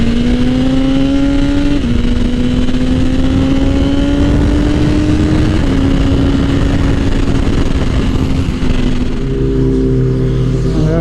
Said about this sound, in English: Somebody do a burnout?